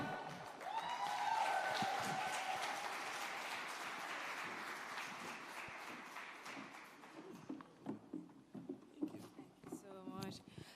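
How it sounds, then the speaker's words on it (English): Audience at a Jamaican business summit applauding in a broad, sustained wash of clapping that swells early and slowly fades, with a voice speaking over it and scattered claps near the end. "Another round of applause"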